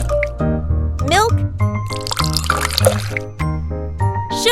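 Milk trickling and dripping as it is poured into a miniature chocolate rainbow cake batter, soft liquid splashes beneath a bright cheerful music track.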